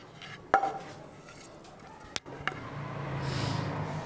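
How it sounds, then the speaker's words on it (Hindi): Panjiri ingredients are sautéed dry, without ghee, in a pot on a stove flame: a few sharp metallic clinks of a utensil against the pot, then a soft rising hiss of stirring and frying. "ये हमने बर्तन फ्लेम पे रख दिया है, हम चीज़ों को थोड़ा सा सोटे करेंगे"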